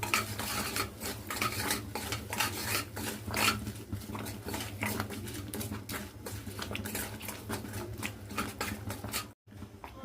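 Chili powder being stirred into mango chutney in a pot, with a steady scraping and rubbing of a ladle against the metal vessel, close and quiet, no speech.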